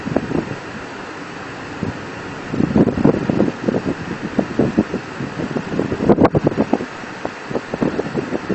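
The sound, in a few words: wind blowing on the microphone outdoors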